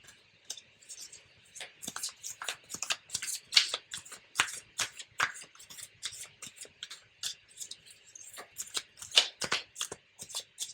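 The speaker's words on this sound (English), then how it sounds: "So let's start by shuffling a little bit these cards. I'm gonna do some shuffling." Tarot cards are shuffled by hand close up, a run of quick crisp riffles and flicks in irregular bursts, fairly quiet, with no talking.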